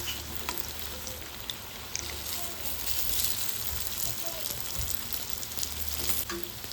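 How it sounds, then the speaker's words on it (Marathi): Moong dal fritters frying in oil after being flipped, a steady close bubbling sizzle with a few faint clicks of a utensil. "तर दुसऱ्या साईडून सुद्धा आपण व्यवस्थित असे फ्राय करून घेऊया त्यांना."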